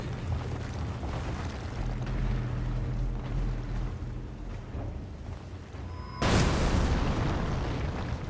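A loud explosion bursts in Elden Ring at about six seconds, a sudden broadband blast that follows a steady rumbling low drone and rings out to the end.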